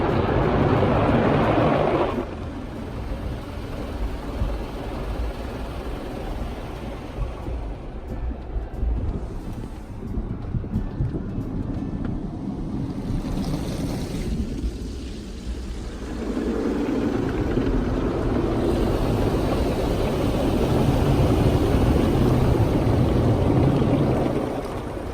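A car wash sprays soap and water over a Peragon truck bed cover and then its brushes scrub the cover, a loud continuous rush of water and churning noise heard from close by, easing briefly midway before surging again.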